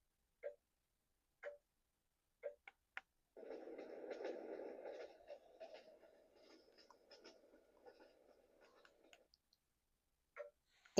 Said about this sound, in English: That's a clock ticking in case you can't.